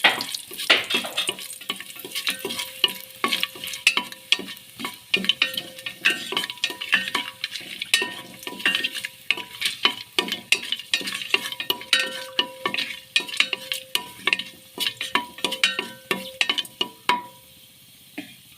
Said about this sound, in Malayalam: തക്കോലെല്ലാം ഇട്ട് കൊടുക്കുന്നുണ്ട് ഇതിനകത്തോട്ട് എത്തുന്നില്ല തട്ടി കൊടുത്തൊന്ന് ഇളക്കി കൊടുക്കാം